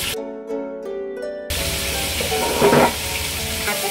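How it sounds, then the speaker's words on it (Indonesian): Meat hits hot oil in a wok for a stir-fry, giving a loud, close, continuous sizzle that bursts in abruptly and crackles steadily, with a brief flare of stirring partway through. "Jadi ini minyaknya mau tumis daging ya."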